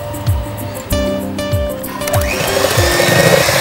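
A blender runs at full speed through biscuit batter for a cherry naab biscuit, giving a steady, loud motor whir with rhythmic churning thumps as the thick mixture turns, continuous with no talking.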